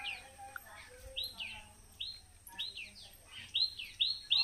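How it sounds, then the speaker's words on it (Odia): Small bird chicks in a nest chirp close by with repeated thin, high tweets in quick, uneven bursts that grow louder toward the end. No voices are heard. "ଛୋଟ ଚଢ଼େଇ ଛୁଆ କରିଛି"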